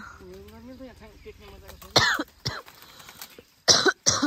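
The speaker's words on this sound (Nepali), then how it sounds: "खोकी लागेर" A voice speaks briefly, then a person coughs hard several times in short, harsh bursts close to the listener.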